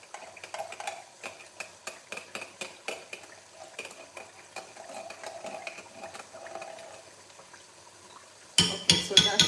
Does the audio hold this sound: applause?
no